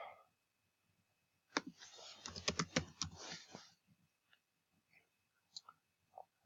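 Keys clatter on a computer keyboard in a quick, close burst of typing that lasts about two seconds. A few scattered single clicks follow in an otherwise quiet room.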